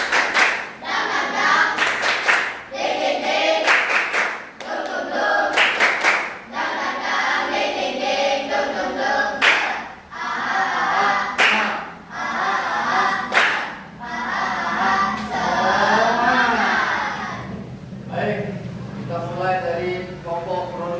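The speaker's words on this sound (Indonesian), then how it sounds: "Sebelum itu mari kita tepuk semangat." A classroom group performs a rhythmic spirit clap ahead of a quiz, with bursts of patterned clapping and chanting voices repeating in time, loud and close throughout.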